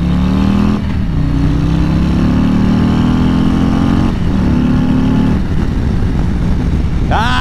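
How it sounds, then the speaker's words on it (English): A 2020 Harley-Davidson CVO Road Glide motorcycle engine runs loud and close while riding, with a deep rumble that rises in pitch as it accelerates through gear changes, against heavy wind noise. "These Harleys sound so good."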